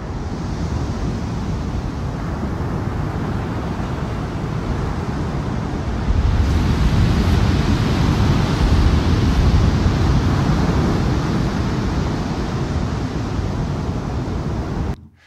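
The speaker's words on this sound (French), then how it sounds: "pour ses vagues géantes" Giant ocean waves at Nazaré roar continuously for about fifteen seconds, a loud, dense wash of surf and wind that swells midway and then cuts off abruptly.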